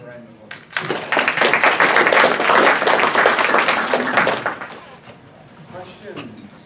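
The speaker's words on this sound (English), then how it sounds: "Let's have a round of applause." Round of applause from an audience after a talk on pesticides in caneberry production, a burst of dense clapping that swells quickly, holds, then tapers off with a few scattered claps.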